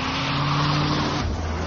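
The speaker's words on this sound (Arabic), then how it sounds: "أدار محرك السيارة وانطلق" A car engine runs and pulls away, a steady loud motor drone with a tonal hum that drops and shifts near the end as the vehicle moves off.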